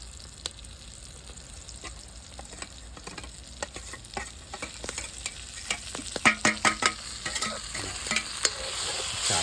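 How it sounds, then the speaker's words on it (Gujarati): Onion goes into a hot pan for bharthu, cooked village-style in desi ghee over a wood-fired chulha, with a steady sizzle, then scraping stirring strokes and a string of sharp clacks growing louder toward the end. "બરાબર થોડુંક ડુંગળી આપણે નાખી દઈશું."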